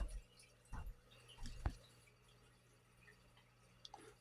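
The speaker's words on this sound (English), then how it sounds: "The water's dripping out of the neck onto my floor." Water drips from the neck of an old, grimy bass guitar onto an indoor floor, making a few faint, irregular drips and soft splats close by against quiet room noise.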